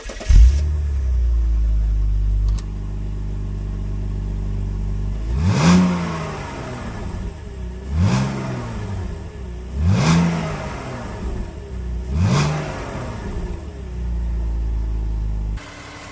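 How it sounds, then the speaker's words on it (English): A 2006 BMW X3's 3-liter engine, at 215,000 miles, cranks and starts, settles into a low idle, then revs up four times in a steady rhythm before dropping back to idle. "As you just heard, the 3-liter engine in this BMW sounds really good"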